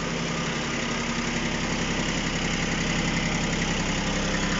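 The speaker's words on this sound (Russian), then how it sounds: "Вот такой замечательный трактор." Japanese mini tractor with a rotary tiller idling outdoors, a steady, loud, close engine drone with an even low throb throughout and no voices.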